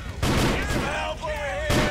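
Shotgun blasts in GTA 4: The Lost and Damned, loud broadband bursts at the start and again near the end over steady game noise, with gunfire-like texture throughout and a voice faintly underneath.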